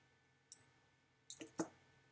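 A computer mouse gives a few faint, close clicks, one alone and then a quick cluster of three, against a quiet background with no talking.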